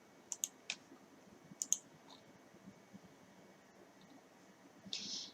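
Computer mouse clicks sound while editing photos in PhotoScape X, giving a few faint, sharp clicks scattered over quiet room noise.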